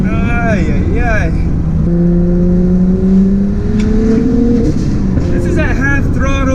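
BMW 335i with an N54 engine converted to a single turbo at 30 psi, pulling at half throttle: a loud, steadily rising engine drone with whining harmonics climbing for several seconds, with excited voices and whoops over the top.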